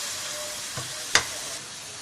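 Chow mein ingredients frying in ghee, a steady soft sizzle throughout with a couple of brief scraping clinks of a utensil in the pan.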